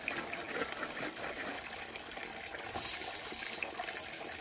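Clothes, including a child's shorts, scrubbed and rinsed by hand with soap and water, giving a steady, close wash of splashing and sloshing water throughout with no voices.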